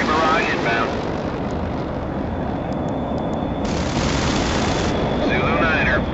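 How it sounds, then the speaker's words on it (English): Artillery barrage in the World in Conflict strategy game: a dense, continuous roar of rumbling blasts and crackling detonations, loud and sustained throughout with no pauses, with a few brief radio-like tones and bursts of higher hiss above it. "Artillery barrage inbound."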